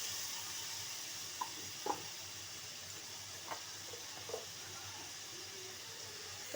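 Tomatoes sauté in a pan for an ivy gourd (kovakkai) thokku, giving a faint, steady sizzling hiss broken by a few soft pops and clicks, with no one talking.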